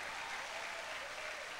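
Congregation clapping during a church worship service, a steady, dense wash of many hands that carries on without a break and sounds somewhat distant and soft.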